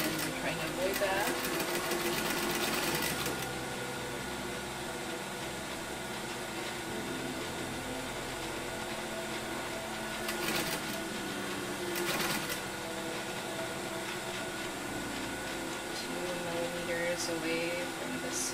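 A sewing machine stitches bias tape onto a seam edge for a Hong Kong seam finish, running in a steady continuous whir throughout with brief louder bursts, while a person talks over it.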